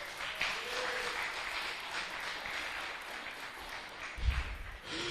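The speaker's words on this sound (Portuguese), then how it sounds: "Dá uma salva de palmas para o Senhor." A church congregation applauds for several seconds at moderate volume, the clapping dense and steady before a brief louder burst near the end.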